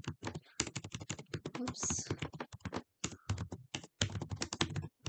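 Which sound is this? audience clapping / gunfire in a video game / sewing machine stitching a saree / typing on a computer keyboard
typing on a computer keyboard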